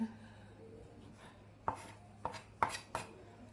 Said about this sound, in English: I find it therapeutic to cut up veggies and to cook.